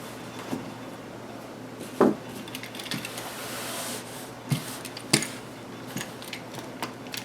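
Scissors cutting through shirt fabric along a seam for a memory quilt, giving scattered soft snips and rustling cloth with occasional louder clicks at irregular intervals.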